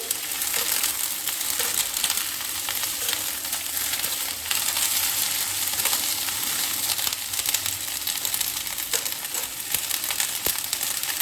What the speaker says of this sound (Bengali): ওই তেলেই আমি কপিটা ভেজে নেব। ফুল আঁচে করে ভাজতে হবে।